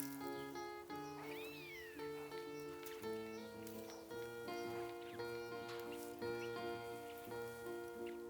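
Newborn kittens in a straw-lined corner give faint, high, wavering meows over a steady background of sustained tones and soft patter, with several thin cries rising and falling across the stretch.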